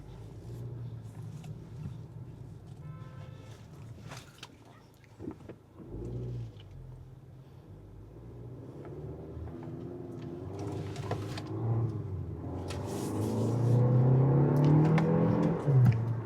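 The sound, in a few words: Kia K4 GT-Line turbo hatchback accelerating around roundabout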